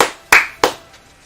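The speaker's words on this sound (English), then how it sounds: "Sorry if that was really loud, the clapping" Excited hand clapping during a Warhammer 40k Astra Militarum miniatures preview: three sharp, loud claps close by, spaced about a third of a second apart, each ending in a short fading tail.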